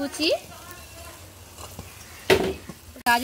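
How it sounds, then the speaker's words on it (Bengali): Chopped onion and carrot fry in a pan, making a soft, steady sizzle with a few scraping stirs, and a voice is briefly heard at the start and again at the end. "পেঁয়াজটাকে একটু লাল লাল করে ভেজে নিতে হবে।"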